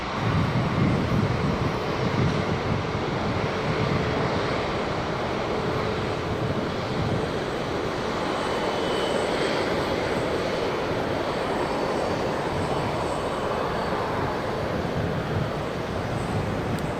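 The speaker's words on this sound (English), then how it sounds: "Live pictures now of the Vietnam Airlines A350 coming in onto the international apron." A Vietnam Airlines Airbus A350 taxiing onto the international apron at Sydney Airport gives a steady, moderate jet engine drone with some wind buffeting on the microphone, continuous and without speech.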